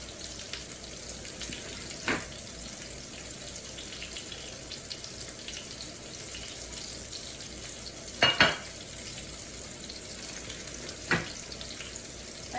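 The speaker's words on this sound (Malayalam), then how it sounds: "Fish is frying." Kingfish frying in a pan with curry leaves: a steady, fairly faint sizzle running throughout, broken by a few brief clicks and scrapes around the middle.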